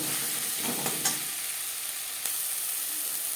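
Chela fish coated in red chilli powder fries over a low-medium flame, giving a steady soft sizzle with a few faint stirring scrapes near the start.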